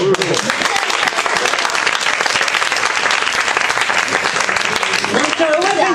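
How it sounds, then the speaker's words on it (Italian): Sustained audience applause at a live Italian theatre comedy show presenting Romeo & Giulietta, dense and loud throughout, with a voice briefly heard over it near the end. "Un applauso."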